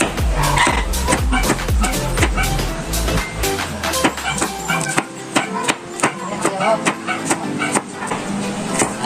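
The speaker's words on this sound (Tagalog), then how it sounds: "Nag-iingay na po yung aming mga aso." Dogs bark repeatedly in sharp bursts near a kitchen where food is cooking, with clattering and engine-like rumble mixed in and irregular loud barks continuing throughout.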